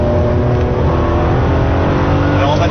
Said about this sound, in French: on va tirer les tours pour voir un petit peu comment fonctionne la boîte